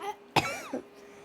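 A single sharp cough close to the listener, followed by a short hoarse vocal catch, then quiet.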